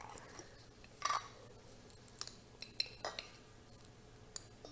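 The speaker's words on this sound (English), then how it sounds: "I'm going to use my 1/2 teaspoon to do the onion powder and the garlic powder" A metal half-teaspoon measure scooping onion and garlic powder, quiet light clinks and taps of the spoon against jars and dishes, sparse and close, with no talking.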